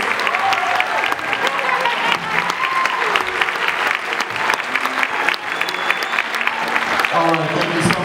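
Audience applause fills the room after a middle school jazz combo finishes its winter showcase set, a steady, dense wash of many hands clapping at full volume for the whole stretch, with a few voices mixed in.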